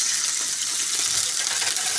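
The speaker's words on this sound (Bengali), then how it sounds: "বন্ধুরা একটু পানি দিলাম।" Water splashed into a hot wok of frying onion and bay leaf in oil, producing a loud, dense, continuous hiss close by.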